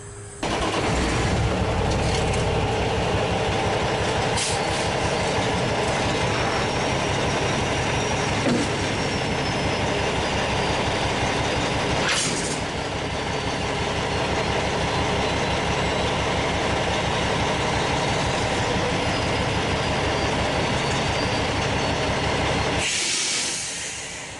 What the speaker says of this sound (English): That fifth wheel plate is going to lift up the trailer.